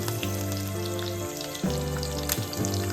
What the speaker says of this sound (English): Let the mustard seed cracks.